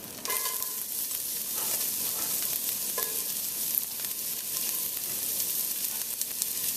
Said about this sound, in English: Give that a quick stir around in there